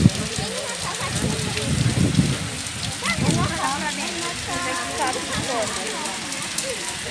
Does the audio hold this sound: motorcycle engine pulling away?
no